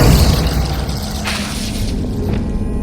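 Glacius, an ice spell in Hogwarts Legacy, lands as a loud, heavy boom with a crackling, shattering edge that fades over a few seconds.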